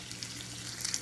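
Red-cap boletus mushrooms fry in a pan with a steady, soft sizzling hiss and occasional faint crackles, heard up close with no voices.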